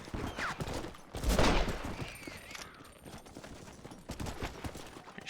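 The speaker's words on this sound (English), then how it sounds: "Shooting at me?" Gunfire in the Western video game Red Dead Redemption: a dense burst of shots around the second mark, then scattered softer cracks under a steady game ambience, with faint hoofbeat-like clopping in the mix.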